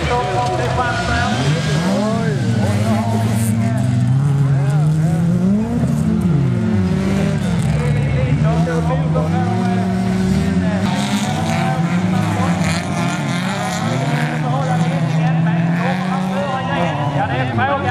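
Folkrace cars race around a dirt track at a club meet, engines droning and revving loudly and continuously with rising and falling pitch, while a commentator speaks over the noise throughout.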